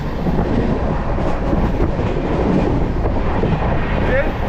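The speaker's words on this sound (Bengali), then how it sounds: "আর ট্রেনটা চলছে" The Kanchan Kanya Express rumbling along the tracks past Bardhaman, India, with a steady low roar and faint rhythmic clatter, heard from inside the carriage, continuous throughout.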